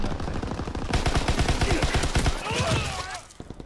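A PPSh submachine gun rattles in rapid automatic bursts during a Call of Duty WWII match, sharp regular reports fading out near the end.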